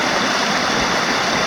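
An alpine stream in the Jachenau area rushes past nearby, a loud, dense and unbroken wash of flowing water with no other sound.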